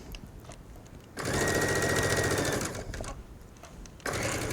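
Sewing machine stitching narrow twill tape onto a V-neckline of a top, running in two steady bursts with a short pause between, close and fairly loud.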